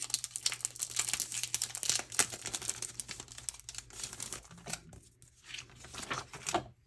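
Plastic packaging around a 3D embossing folder crinkles and rustles in close, irregular bursts as it is opened, with brief pauses between handling.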